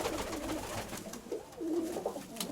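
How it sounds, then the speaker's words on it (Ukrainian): Soft, low pigeon coos repeat a few times at close range against a faint hiss. "вот этот голуб"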